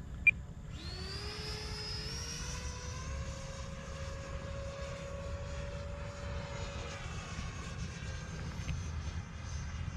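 An E-Flite F-16 Thunderbird radio-controlled jet with a 70mm ducted fan spools up to half throttle, its whine rising in pitch and then holding steady over a constant rushing background, no talking.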